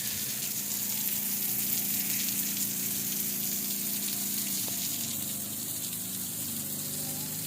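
Water gushing steadily from a homemade shower head built from G.I. pipe and tubing, a loud, continuous, close hiss of spray and splashing that holds unbroken throughout.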